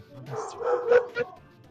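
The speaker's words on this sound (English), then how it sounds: "I've alerted the dog in real life as well." A dog in the room gives a few quick, close barks and yips in a short burst lasting about a second, then quiets.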